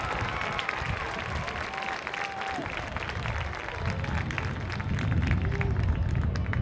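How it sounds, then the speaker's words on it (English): At a high school football stadium on a Friday night, the crowd applauds the 2020 Aledo homecoming court, a distant, diffuse clapping and cheering that grows somewhat fuller toward the end. "one more round of applause, please, for your 2020 Aledo homecoming court"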